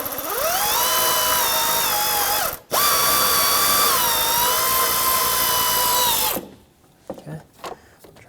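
Ratchet or power driver spinning an 8mm intake bolt loose near the throttle body of a 2009-2019 Ford Flex, a loud close whirring run with one brief break, then stopping into a few faint clinks.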